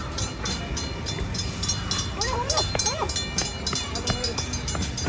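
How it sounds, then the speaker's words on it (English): A theme park ride train rolls along its rails nearby, with continuous rumble and clatter and a few squealing metallic tones partway through. "Looks like they're still sending an empty train there in the station next."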